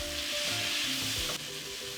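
Plum tomatoes and green onions sizzle steadily in a pan for a salmon fish curry, a close, continuous hiss and crackle with faint stirring and some soft background music underneath.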